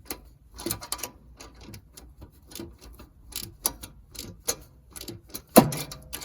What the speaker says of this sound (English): it's sort of small movements on the socket ratchet.